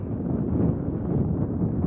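Cold wind on a golf course, a steady loud low rumble of gusts buffeting the microphone with no other sounds.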